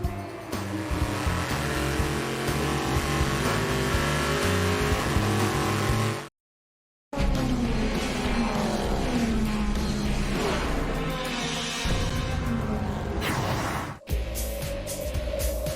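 Race cars at the 24 Hours of Le Mans endurance race roar loudly and continuously, engines revving and shifting as they blast past, with one abrupt cut to silence and another brief break partway through.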